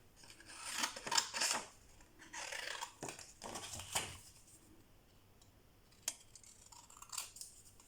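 Scissors snip through handmade background paper while corners and edges are trimmed for tags and pockets, a few crisp close cuts in bursts with quieter gaps and a couple of sharp clicks later.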